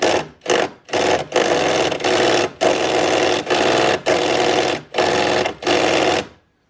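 A power tool turning a rusty bolt on a Subaru Impreza GC8 runs in about eight loud, close whirring bursts, each lasting roughly half a second to a second, separated by brief pauses.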